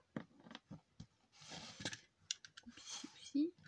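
Scissors snip through paper in a few quick, close cuts, mixed with soft handling rustles and faint murmured speech.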